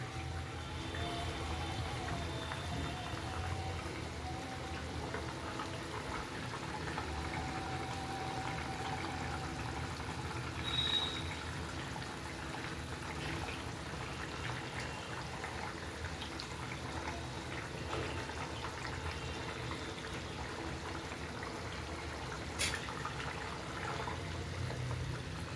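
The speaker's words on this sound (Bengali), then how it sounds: "মাছগুলো ছেড়ে দেবো।" Tengra fish sliding into a simmering jhal curry, followed by a steady, soft bubbling and sizzling that continues evenly without talk.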